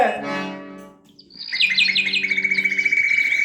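A bird call rings out as it arrives: a rapid series of bright, high chirping notes that repeats steadily and close, following a brief low tonal sound at the start.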